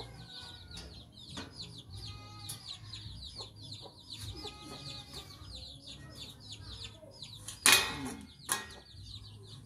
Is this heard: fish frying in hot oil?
no